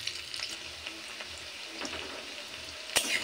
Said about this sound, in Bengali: গাজরটা প্রথমে মিনিট 2 আগে হালকা ভেজে নেব